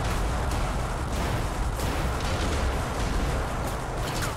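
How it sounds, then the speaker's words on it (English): Bombs bursting on destroyers in iBomber Defense Pacific, a dense, continuous rumble of overlapping explosions and booms with repeated impacts throughout, loud and heavy. "dropping some bombs on those sneak attacking destroyers"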